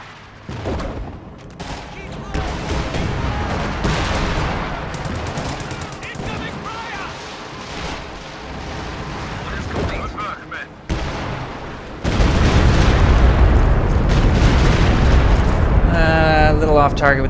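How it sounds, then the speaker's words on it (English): A Stuka dive bomber barrage strikes team weapons in a World War II strategy video game, bringing dense loud rolling explosions and gunfire with a heavy blast that swells near the end. "A little off target with that Stuka barrage right there."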